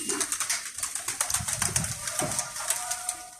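Iraqi Tarzi pigeons coo low and soft amid a busy backdrop of fluttering and scattered clicks, a fairly distant, continuous flock sound with no voices.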